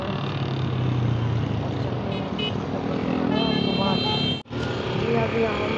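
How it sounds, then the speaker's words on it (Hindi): A car nearly out of petrol starts up and drives, its engine and road rumble continuous under people talking, with a brief cut-out near the end. "गाड़ी स्टार्ट हो रही"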